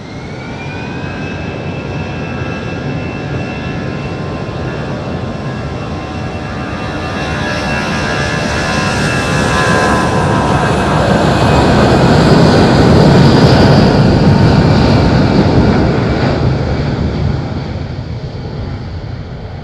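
Jet airliner taking off on the runway at Madeira Island Airport: a steady, powerful engine roar that swells to a peak midway and then eases slightly, loud and continuous with a thin whine on top and no speech.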